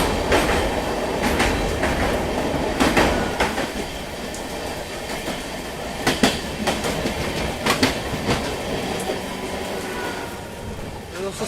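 The Amrit Bharat Express, Delhi to Gaya service, runs at speed near Ghaziabad while overtaking an EMU train, with a steady loud rumble, rhythmic clicking wheels and occasional sharp clatters, heard from onboard with some chatter underneath.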